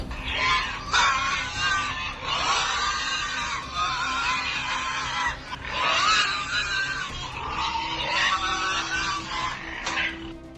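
Wild boars caught in a farm trap squeal and scream loudly and almost continuously, with harsh overlapping high-pitched cries rising and falling close by.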